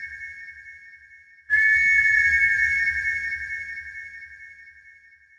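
A cartoon pony's snore comes out as a clear, steady whistle, a soft tone that jumps into a loud sustained whistle with breathy noise underneath, slowly fading.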